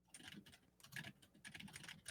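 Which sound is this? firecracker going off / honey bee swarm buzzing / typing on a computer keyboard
typing on a computer keyboard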